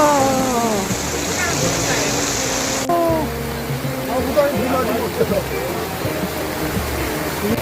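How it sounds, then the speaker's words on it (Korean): Sudden heavy rain shower pouring down around a Starria camper van at a car-camping gathering in Korea, a steady broadband wash of rain that stays loud throughout, with people talking and exclaiming over it. "갑자기 비가 이렇게 오네"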